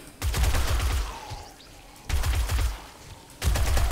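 Gunfire in the zombie survival game 7 Days to Die comes in three loud bursts of rapid automatic shots with heavy low thumps, separated by brief quieter gaps, with no talking.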